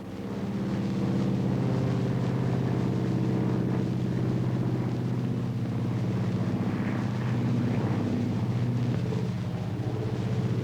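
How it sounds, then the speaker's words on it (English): A steady, low droning engine hum of an airplane fills the whole stretch, continuous and fairly loud, with no voices over it. "They've got a new contraption. They call it the airplane."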